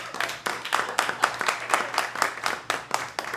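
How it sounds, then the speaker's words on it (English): Audience applause in a New York stand-up comedy club: many hands clapping in a dense, steady patter, close and moderately loud, with no talk over it. "which you should clap for."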